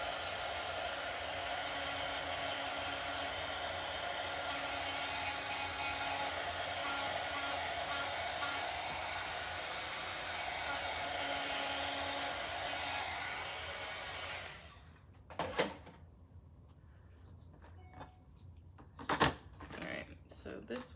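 A hair dryer blows steadily for about fourteen seconds, close and loud, drying a painted pumpkin, then cuts off, leaving faint handling knocks and rustles.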